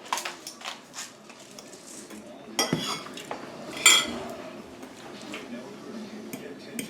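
Cutlery clinks and scrapes against a plate while meatloaf with gravy is eaten, as scattered light taps and one sharper clatter under casual nearby talk.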